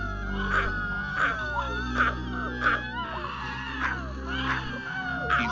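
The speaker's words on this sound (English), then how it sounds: "the many faces screams as they're popping out from his back, crying, screaming" A Halloween tale sound effect of many faces screaming and crying: a chorus of layered wailing voices rises in repeated shrill cries about every half second over a low rumbling bed, loud and continuous.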